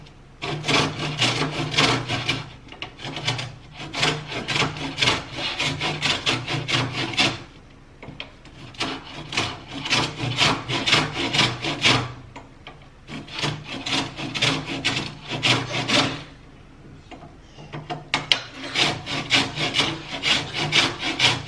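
A lemon rubbed against a grater to remove its zest, producing rapid rhythmic rasping scrapes in bursts separated by short pauses, close and fairly loud with no talk.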